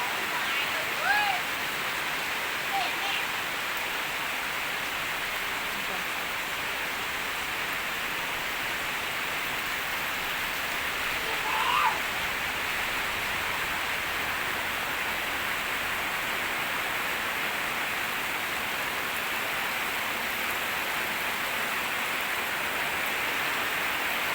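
Heavy afternoon rain pours down over a home vegetable garden as a dense, even hiss that lasts the whole stretch, with a few faint voices in the background.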